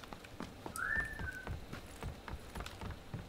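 A single rising-and-falling whistle sounds in a video game, brief and fairly clear over soft clopping footsteps and low background noise.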